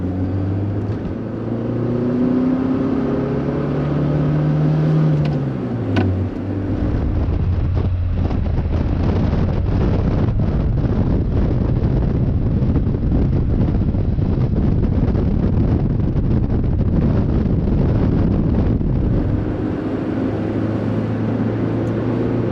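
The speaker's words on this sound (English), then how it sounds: "we're gonna let that little 4-cylinder breathe a little bit" A 1984 Pontiac Fiero with the Iron Duke 2.5L four-cylinder pulls hard on a test drive, a loud droning engine note rising through the gears under heavy wind and road roar.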